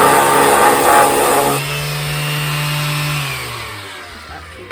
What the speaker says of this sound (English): I have a fucking belt sander